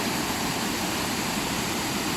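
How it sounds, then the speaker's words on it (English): A small waterfall spills into a resort pool at Bamboo Resort in Taiping, producing a steady, dense rushing of falling water that fills the whole stretch evenly at close range, with no voices. "waterfall, should I say waterfall?"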